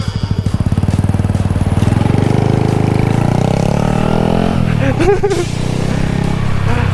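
A Honda Wave 110i motorcycle engine runs close by while riding, a steady putter rising in pitch as it accelerates, with someone talking over it throughout.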